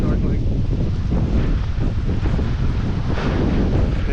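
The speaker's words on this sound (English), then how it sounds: "Nice breakers today." Strong wind buffets the microphone on the reef shore of Elbow Key's eastern beach, with ocean breakers rumbling underneath in a loud, continuous roar.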